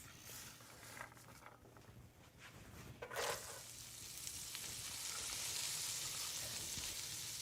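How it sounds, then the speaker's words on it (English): Chopped carrots dropped into hot melted butter in a pan set up a steady, close frying sizzle that builds and stays loud after a brief quieter start. "That's a good little sizzle there."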